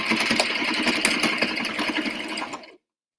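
A sewing machine stitches an apron near a corner, a fast steady mechanical whir with a rapid needle rhythm that runs close and loud for under three seconds before stopping abruptly.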